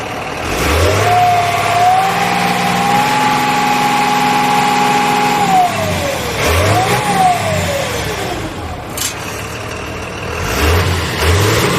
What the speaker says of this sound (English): Transmission makes that whiny sound when the clutch is engaged.